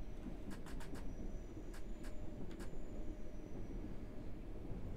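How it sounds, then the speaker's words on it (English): Train in a simulator game rolling through London tunnels, with a low rumbling drone and repeated short high-pitched wheel flange squeals in clusters, moderately faint. "We have the flange sound there going on. This train squeals through the tunnels of London."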